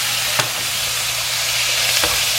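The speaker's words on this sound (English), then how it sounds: "I've got about 1 pound of large shrimp, peeled and deveined. That's going to go in to the sauteed onions." About a pound of large peeled, deveined shrimp sizzle loudly in a pan of sautéed onions, a steady close frying hiss broken by two brief stirring scrapes.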